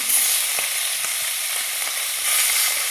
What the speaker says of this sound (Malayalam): തിരക്കായിട്ട് ഞാൻ പൊരിക്കുകയാണ്.